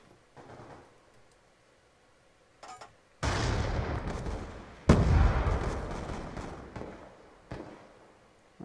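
Gunfire in a video game: a quiet lead-in, then a dense, loud burst of rapid shots runs for about a second and a half, a second heavy volley follows and fades, and lighter pops trail off at the end.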